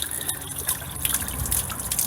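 Water trickles and splashes steadily from the drain of a Suburban water heater tank on an RV, a continuous close gushing dribble with no talk.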